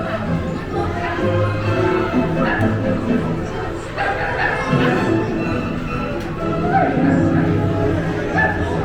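A ghost dog barking effect sounds on the Haunted Mansion Holiday dark ride at Disneyland, with yips and bow-wows mixed into a busy, continuous ride soundtrack full of music and voices.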